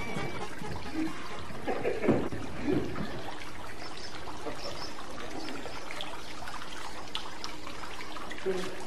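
Running water trickles and pours steadily throughout at close range, with a few brief louder splashes early on.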